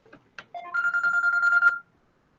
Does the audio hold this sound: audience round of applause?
no